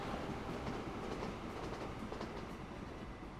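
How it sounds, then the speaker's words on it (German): A diesel locomotive train passes in the Train Fever game, a steady rumbling roll with soft clickety-clack of wheels on rails, moderately distant and unbroken throughout. "Jetzt kommt noch die Diesellok."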